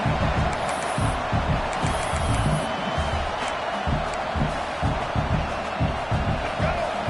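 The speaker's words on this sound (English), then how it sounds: "this crowd is fired up. Listen to this noise here." A dense, roaring stadium crowd noise fills the whole stretch, steady and loud, with scattered shouts and thumps rising out of it.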